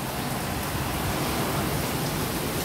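Heavy rain pours down as a dense, unbroken roar that stays loud and even throughout, with no voices.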